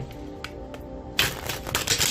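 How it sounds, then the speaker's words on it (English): A deck of tarot cards is shuffled by hand: soft handling at first, then a loud, close riffle of flicking cards in quick bursts. "I shuffled and these just flipped right out"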